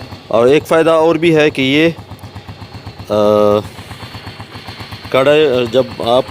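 A kick-started motorcycle idles with a steady, low putter beneath someone talking throughout.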